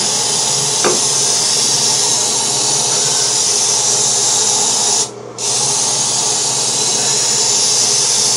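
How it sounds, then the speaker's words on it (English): A loud, continuous aerosol spray of Raid ant spray hisses close up into a Moen shower faucet for several seconds, briefly cutting out once before resuming. "That's ant spray, Raid, but I'm going to spray it all up in there"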